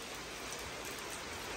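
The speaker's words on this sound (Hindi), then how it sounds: "बारिश जी बहुत तेज आ चुकी है" Heavy rain pouring down steadily outdoors near animal pens, a dense, even hiss of drops on surfaces with no breaks, fairly loud and close throughout.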